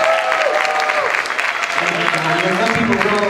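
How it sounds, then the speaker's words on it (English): Church audience applauding steadily after a guest preacher is introduced, a dense continuous wash of clapping with a voice speaking over it. "Round of applause one more time, Mr. Greg Gressler."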